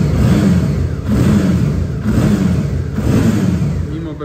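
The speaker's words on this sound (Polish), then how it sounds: "No i ten dźwięk, uważam, że ten silnik jest bardzo udany." Suzuki DL 650 V-Strom motorcycle (2012, 50th Anniversary edition) engine revving close by, with loud throttle blips rising and falling about once per second in a repeating rhythm.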